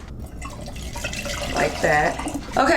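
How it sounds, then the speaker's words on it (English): Water pours and trickles into a facial steamer's reservoir up close, with a rising gurgle as it fills while someone talks over it. "right now I'm just gonna put water in"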